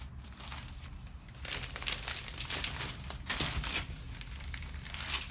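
A Bible slides into a plastic poly bag for packaging, giving a near, continuous crinkling and rustling that swells in bursts over several seconds with no voices.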